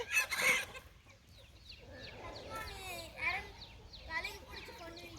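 Chickens clucking outdoors at a rural home, with repeated short calls and chirps scattered over several seconds, moderately loud, mixed with a brief burst of people talking at the start.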